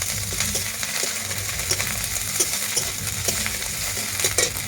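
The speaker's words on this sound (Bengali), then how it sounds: "আদা বাটাটাও আমি এইভাবে একটু লেলে নেবো" Ginger paste stirred and fried in a pan for a rohu fish curry with potato and eggplant, with a steady close sizzle and scattered scraping taps from the spoon throughout.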